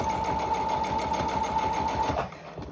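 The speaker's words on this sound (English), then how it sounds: "You don't really want to sew over pins if you can help it." A sewing machine stitches headphone parts with a fast, even needle chatter and steady motor hum close by, then winds down and stops near the end.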